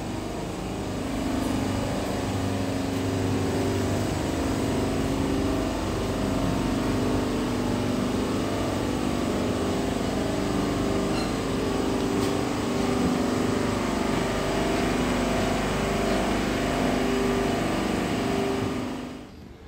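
A Hino RG 235 rear-mounted bus engine idles with its rear hood open, a steady, close, loud diesel rumble that holds evenly throughout and cuts off at the very end.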